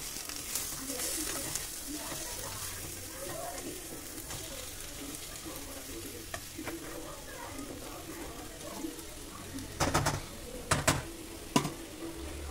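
Egg sizzles steadily in a hot frying pan while someone speaks over it. Near the end come a few louder scraping clinks of a utensil against the pan.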